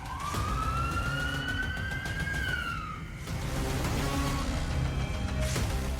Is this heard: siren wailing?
yes